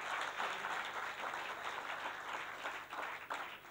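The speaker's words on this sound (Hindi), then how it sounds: "जोरदार तालियों से स्वागत करिए" Audience applause at an ad-industry media festival greeting a speaker, steady dense clapping throughout with no pauses, moderately loud in a hall.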